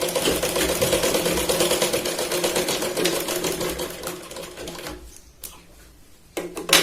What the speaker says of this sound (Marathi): यालाही खाली शिलाई न सोडता आपण कटोरीच्या पॉइंट पासून बाहेर काढूया